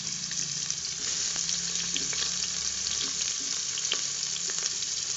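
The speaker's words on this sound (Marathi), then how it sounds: "कांदा आणि टमाटर चांगलं परतून घेऊ आपण." Onion and tomato frying in a pan for dal batti, giving a steady moderate sizzle with occasional light stirring clicks.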